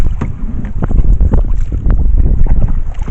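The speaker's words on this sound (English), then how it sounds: "the wind's not gusting, it's just a steady blow of the wind" Steady wind blowing over a boat heading into waves with small whitecaps, loud continuous buffeting and rumble with splashing and thumps of the hull.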